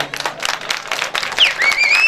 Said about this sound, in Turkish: Kemal ağama bir alkış alayım